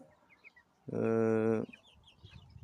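A mother hen with her chicks gives one drawn-out, tonal call lasting under a second, clear and close, framed by faint quiet farmyard background before and after.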